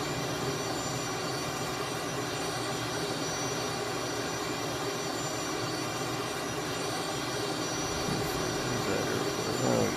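A Tutor CT-114 jet engine in a VR flight simulator game, a steady, close, whining roar that holds even throughout, with no talking.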